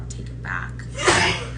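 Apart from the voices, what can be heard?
sneeze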